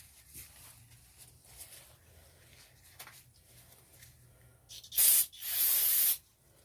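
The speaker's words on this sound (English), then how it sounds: "I'm gonna take some brake cleaner and just clean up the area real quick." Quiet background, then two loud hissing bursts of aerosol brake cleaner spray close by, a short one followed by a longer continuous blast, during throttle body replacement on a 2007 Chevrolet Cobalt.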